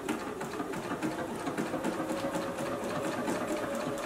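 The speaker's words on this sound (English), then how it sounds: "And stitch down the other side." A JUKI sewing machine runs steadily, stitching down the side of a beverage coaster with a close, rhythmic mechanical chatter that stays constant from start to finish.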